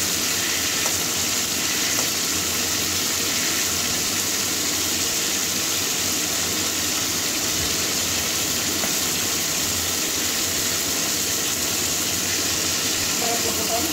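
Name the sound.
pointed gourd frying in oil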